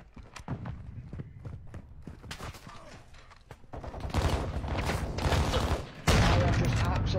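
Shotgun fire in a Call of Duty multiplayer match, several sharp blasts scattered through the clip and growing denser and louder toward the end, mixed with other game gunfire and effects, with a voice talking over part of it.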